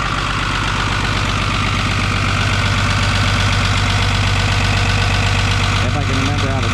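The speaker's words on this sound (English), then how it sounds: "I had the idle set high just because you know, it didn't like to run at a low idle" The diesel engine of a 1975 squarebody truck runs at a high idle, loud and steady with a low rumble close by, while a person talks over it.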